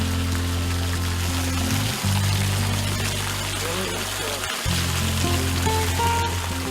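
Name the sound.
showering with cold stream water at Nepal rest stop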